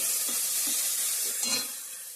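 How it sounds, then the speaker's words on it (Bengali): Whole spices tempering in hot oil in a kadai, a steady close sizzle and crackle with a brief stronger hiss midway, easing off toward the end. "ফোড়ন দিয়ে দিচ্ছি এখানে কড়াইয়ের মধ্যে"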